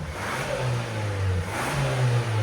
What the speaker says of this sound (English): All right, now he has the valve closed.